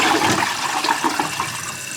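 Toilet flushing with water rushing steadily through the bowl for the full two seconds, a continuous close, moderately loud wash with no talking.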